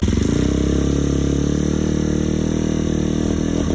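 A Honda CBR 125cc motorcycle engine idles steadily after starting, its rapid putter loud and close, holding an even rhythm throughout.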